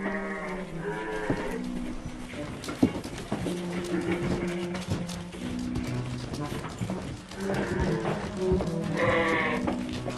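Sheep in the Austrian Alps bleat repeatedly, several overlapping calls close by, rising and falling over a steady background of shuffling and farm movement.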